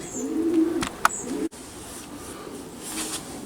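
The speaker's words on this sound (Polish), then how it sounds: "No jest pierwszy gołąb." Racing pigeon arriving at the loft during a race, with a few soft coos and brief flutters and clicks close by, then quiet ambient noise.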